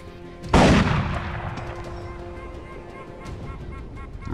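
A single loud gunshot from a video game bandit mission cracks out sharply, then decays into a lingering rumbling tail over steady background game ambience.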